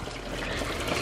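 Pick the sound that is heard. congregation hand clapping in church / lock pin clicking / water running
water running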